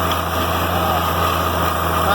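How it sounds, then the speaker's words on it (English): An old, rusty tractor engine runs steadily during disking of a soybean field, a loud continuous drone with constant mechanical hum close to the microphone. "So, this is my old trusty, rusty tractor."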